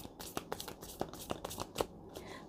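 Tarot cards shuffled and drawn, soft papery flicks and slides in short irregular bursts, quiet and close, with no voice.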